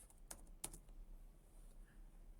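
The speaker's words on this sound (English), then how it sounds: "I type active." A few quick, light keystrokes on a computer keyboard, close and quiet, with faint room hiss between the clicks.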